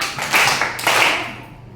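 A few quick hand claps from a class counting along in a set rhythm, close and moderately loud, with no talking over them.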